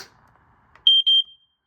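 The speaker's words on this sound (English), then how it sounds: "I pushed it in so you see how it beeps." A household smoke alarm gives two close, loud electronic beeps in a quiet room, each a steady piercing tone lasting about a fifth of a second, after a faint rustle of handling.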